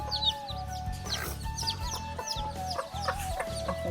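Local desi hens cluck repeatedly in short rhythmic bursts, close and fairly loud, with a low hum underneath and no talking.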